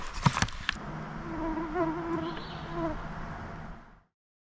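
A swarm of mosquitoes buzzing close by, a continuous droning whine that wavers in pitch, with a few clicks at the start before it cuts off.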